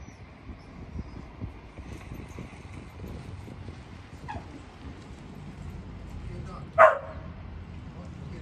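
A puppy gives one sharp bark near the end over a quiet background of outdoor rustling and faint sounds.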